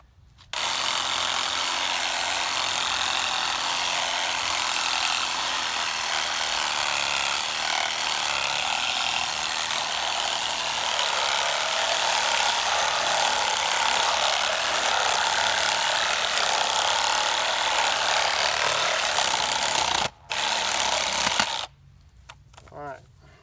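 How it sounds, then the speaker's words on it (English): Reciprocating saw cutting through deer neck bone during field dressing, a loud continuous buzzing grind running steadily for about twenty seconds before stopping abruptly, with a brief restart near the end. "Might have to come back with a Sawzall a couple times"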